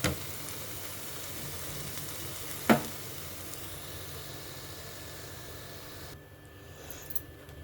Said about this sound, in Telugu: ఇప్పుడు దోశ వేసేసుకుందాం మనం.